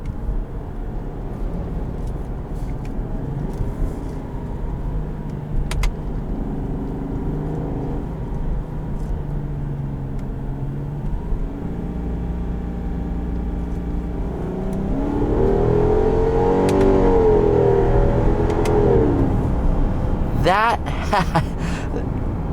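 A 2019 Subaru Legacy 3.6R sedan's flat-six engine hums steadily, then revs up into a rising, growling note. A voice talks over it.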